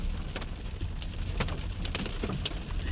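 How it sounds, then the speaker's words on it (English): Large hail, up to about two inches across, pelts down during a severe rotating thunderstorm, making a dense, steady clatter of impacts with sharper individual hits scattered through it and no voices. "This is producing up to 2-inch sized hail right now."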